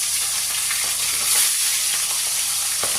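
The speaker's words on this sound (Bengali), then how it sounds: "মাছগুলো এদিকে ভাজা হচ্ছে" Fish pieces rubbed with salt and turmeric fry in a generous amount of hot oil in a pan, with a loud, continuous sizzle and scattered pops and spatters close by. Nobody speaks.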